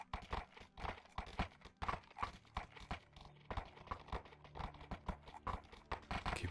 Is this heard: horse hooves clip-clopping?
yes